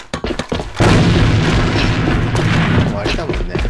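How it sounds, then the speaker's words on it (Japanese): Grenade blast in the shooter game AVA, a loud booming explosion with a long rumbling tail after a few sharp pops, close and heavy, with a voice talking around it. "手榴弾を使うぞ。"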